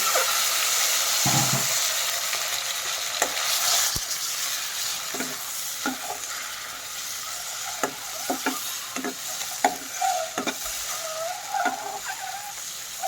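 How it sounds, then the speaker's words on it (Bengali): Eggs seasoned with salt and turmeric fry in a pan with a steady low sizzle, punctuated by intermittent scraping and stirring clicks from a utensil, close and fairly quiet with no talking. "এখন ডিমটা একটু ভেজে নেব।"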